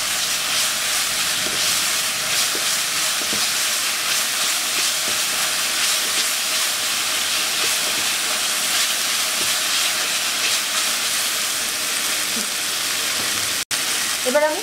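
Chicken pieces fry in a pan with a loud, continuous hissing sizzle that holds steady throughout, broken by one brief dropout near the end.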